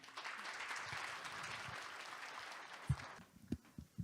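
Warm audience applause greets a science ministry budget official taking the stage at a 2022 public-private R&D innovation forum: dense, steady clapping for about three seconds, then thinning into a few scattered last claps.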